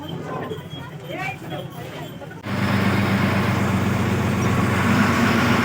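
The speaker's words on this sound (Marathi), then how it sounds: "गाडी आले बघा आपले स्लीपर सीटर आहे" A red Maharashtra state transport sleeper-seater bus on the Tasgaon to Atpadi route pulls in, its loud, steady engine roar and low hum suddenly swelling up after a few seconds of nearby talk and staying heavy to the end.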